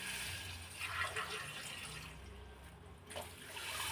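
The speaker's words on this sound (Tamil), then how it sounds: "நான் 3 கிளாஸ் தண்ணி ஊற்றுறேன்." Water is poured from a glass into a cooking pot, three glassfuls, while rava pulav is prepared: a steady, close splashing and rushing pour with no talk.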